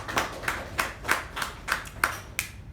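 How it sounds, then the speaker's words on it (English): A handful of people clap at a Toastmasters meeting, about eight distinct, evenly spaced claps close to the microphone, fairly faint and sparse rather than a full ovation. "A big round of applause for Toastmaster Pavani"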